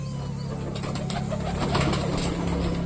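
A black fantail pigeon coos at close range in soft repeated low calls over a steady background hum, with faint fluttering between calls.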